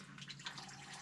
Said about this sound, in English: It's actually running out of the bolt hole that held the water pump on.